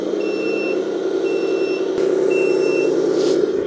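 A customized 8x8 RC hydraulic roll-on/roll-off dumper truck with a metal chassis sounds its reversing alarm, a run of evenly spaced electronic beeps over a continuous motor whine, loud and close, with no talk.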